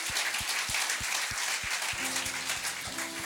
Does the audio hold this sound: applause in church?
yes